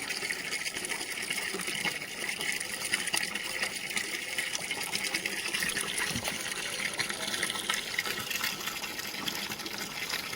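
Water gushes and splashes steadily and continuously at close range as it is poured out for cleaning a house floor, with no pauses.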